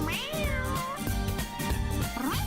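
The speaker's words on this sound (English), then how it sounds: "Postman Pat and his black and white cat." A cartoon cat meows several times in a row, clear and close, with rising and falling drawn-out cries over a faint background.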